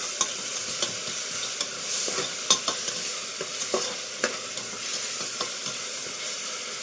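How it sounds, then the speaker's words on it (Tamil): Ginger garlic paste and onions sautéing in a pan for mushroom biryani, giving a soft constant sizzle broken by frequent light scrapes and taps of a spatula stirring the mixture. "இப்போ வந்து இஞ்சி பூண்டு திரும்பவும் ஒரு வாட்டி வதக்கி விட்டுக்கலாம்."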